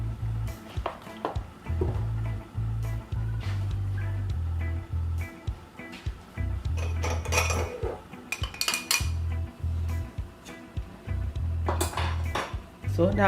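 A Dutch pot, a Dutchie, is set and handled on a stove for Jamaican fried chicken, giving repeated metallic clinks and clanks against a steady low hum, with a voice talking at times.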